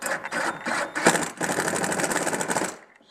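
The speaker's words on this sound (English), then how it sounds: "We put the screw in here. It's a self-tapping metal screw." A power driver sinks a self-tapping metal screw into an aluminum frame, producing close, buzzing whirs in two bursts that stop abruptly after under three seconds.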